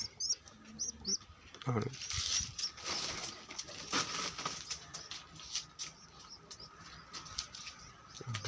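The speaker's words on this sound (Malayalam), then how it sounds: "ഇതാണ് പ്രാവുകൾ." White pigeons coo in soft, low, throaty murmurs at close range, mixed with faint chirps and rustling, while someone talks over them.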